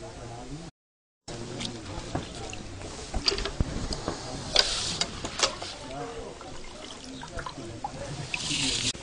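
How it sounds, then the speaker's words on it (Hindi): Seeds being washed by hand in a pot of clean water, with soft splashing and swishing that comes and goes in irregular bursts while a person talks over it. "हम अब एक बर्तन साफ पानी में इसको डालकर धो लेंगे।"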